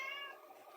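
A cat gives a single short meow, close and clear, rising then falling in pitch over less than a second with no other sounds around it.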